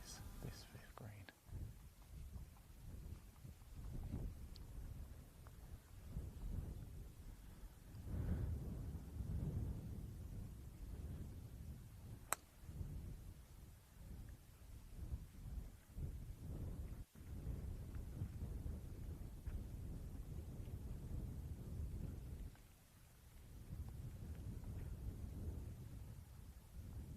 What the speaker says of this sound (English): Wind is blasting me left to right as I face this 5th green.